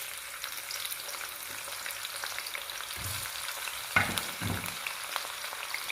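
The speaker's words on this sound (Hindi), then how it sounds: "अब इसके अंदर मैं बारीक कटी हुई प्याज डाल रही हूँ" Finely chopped large onion frying in hot oil for a vegetable pulao: a steady, fairly quiet sizzle throughout, with two or three sharp utensil knocks near the end and no talking.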